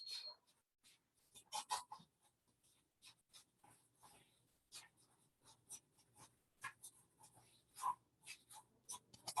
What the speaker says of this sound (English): There's my light pencil, my 6H pencil, and I'm going to put some little light on this side